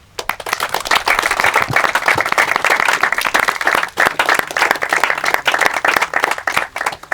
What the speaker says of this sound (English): please join me in a round of applause for Jonah Spivak and Phil Holland